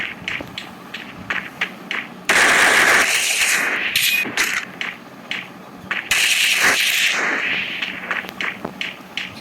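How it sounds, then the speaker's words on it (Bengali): Rapid bursts of AK-47 rifle fire from a first-person shooter video game, loud and sharp, in two sustained volleys separated by scattered single shots and brief clicks. "আমি আসলে AK-47 একদম চালাতে পারি না"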